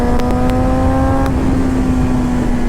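A motorcycle with an extremely loud exhaust drones steadily and close, a harsh sustained engine note whose higher whine eases partway through while the deep rumble carries on unbroken.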